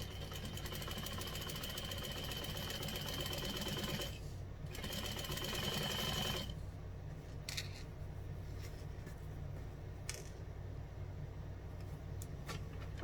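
A sewing machine stitches steadily along a fabric edge 1/8 inch in, running continuously with a brief pause midway and some small clicks and handling near the end.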